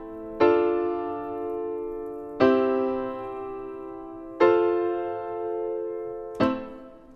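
Four sustained chords struck one at a time at an even, slow pace, each ringing out and fading before the next.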